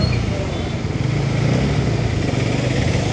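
Bajaj Pulsar NS 200 motorcycle engine running with a steady, loud, throaty drone and constant low rumble throughout, close by with no pauses, out on a city street in Nellore.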